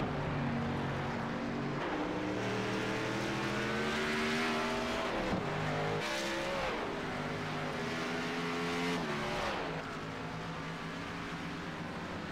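Race car engines scream around Watkins Glen in a sim racing game, a loud continuous roar with rising and falling pitch as the cars accelerate and downshift through the corners.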